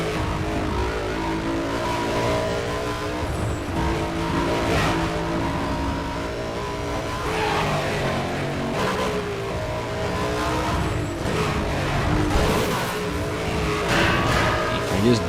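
Race car engine, the V8 of a SARD MC8 in Need for Speed World, revs and roars continuously with rising and falling pitch and occasional tire squeal, loud and steady throughout.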